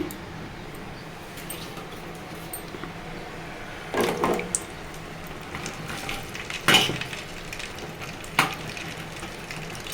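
Indian gooseberries (amla) fry in a pan with a soft, steady sizzle. A few louder scraping bursts stand out against a quiet background.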